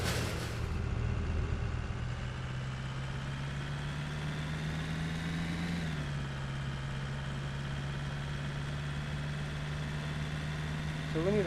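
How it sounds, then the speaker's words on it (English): A car engine with a bad exhaust idles steadily in the Car Dealer Simulator video game, giving a constant low drone with a slight pitch dip partway through. "I can tell you right now it's got bad exhaust"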